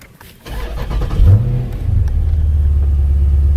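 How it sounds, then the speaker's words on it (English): A Dodge Challenger ScatPack with a 6.4 engine cranks and fires up with a loud flare of revs, then settles into a deep, rumbling idle close by. "So here we go, starting up the Dodge Challenger for the first time."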